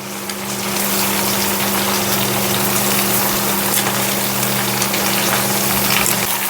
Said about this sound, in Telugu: ఇందులోనే ఉల్లిపాయ ముక్కలు కోసుకున్నాం కదండి వాటిని వేసి వేపేసుకుందాం